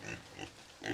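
Feeder pigs grunting in short close bursts, three quick snorting grunts with brief gaps between them.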